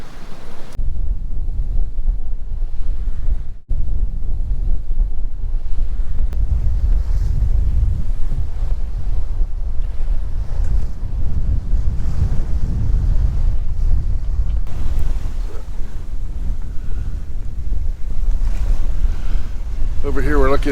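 A sailboat under way at sea off Peter Island at night, with continuous wind buffeting the microphone and waves washing against the hull, a steady, full rush with no clear voices.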